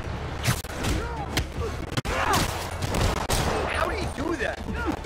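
Rockets and explosions fire in Marvel's Spider-Man Remastered video game, a dense, loud barrage of blasts and thuds with game voices talking over the continuous combat din.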